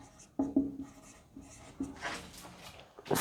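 Pen writing on paper: a few short scratchy strokes near the start, then a longer, busier run of scribbling toward the end, close and fairly quiet with no talking.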